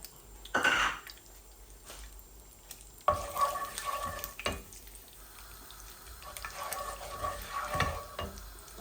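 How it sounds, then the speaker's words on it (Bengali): Whole cumin and black cumin seeds hit hot oil for a Bangladeshi tempering, giving a sharp burst of sizzle followed by a steady, fairly quiet crackle with occasional louder pops; no one speaks. "আমি এখানে জিরা আর কালো জিরা দিচ্ছি ফোড়নের মধ্যে"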